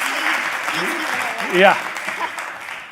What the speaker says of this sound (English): Give the kids a round of applause